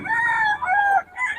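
Gamefowl stag crowing close by, one loud drawn-out crow with a rising then falling cadence, brief and alone.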